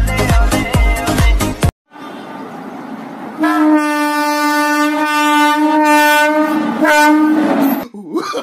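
A train horn blasts long and loud with a steady harmonic tone for several seconds, cutting off near the end, after a burst of rhythmic music at the start.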